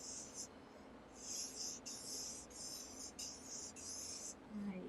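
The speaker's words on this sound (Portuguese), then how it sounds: "Vamos desenhar ela aqui." Pen or marker drawing a flower on a sheet of paper in a first-grade math lesson, giving repeated soft scratchy strokes in short bursts over a faint hiss, with no talk.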